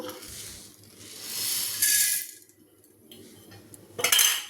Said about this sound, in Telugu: ఫస్ట్ ఈ జీలకర్ర ధనియాలు వేయించుకుందాము